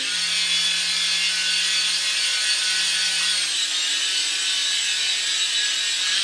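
A small toy helicopter bought from AliExpress lifts off with a steady, close, high-pitched rotor whir. The motor pitch shifts slightly partway through, and no one speaks.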